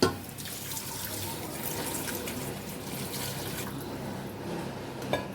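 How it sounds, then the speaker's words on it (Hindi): A little water poured into a cooking pot for a tindy gosht meat curry, a steady splashing trickle close by, with a brief knock near the start and another near the end. "अब इसमें थोड़ा सा पानी डाल देते हैं।"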